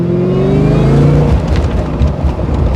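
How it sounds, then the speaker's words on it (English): A supercharged Ford Mustang revs hard and accelerates, with a rising supercharger whine over a deep roaring exhaust, loud and close. "go fast enough that you can hear the supercharger"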